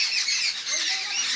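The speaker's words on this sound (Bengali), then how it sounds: "এই যে পেঁচা আমাদের বক্স জানলায়" An owl perched at a box window gives a harsh, raspy screech, one sustained rough call heard close up with little else around it.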